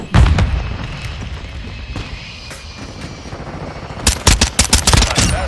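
Call of Duty battle sounds: a heavy blast up front, scattered distant shots, then a rapid close burst of automatic gunfire near the end.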